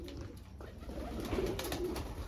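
A pigeon coos faintly inside a pigeon loft, soft low murmurs that come and go over about two seconds of quiet ambience.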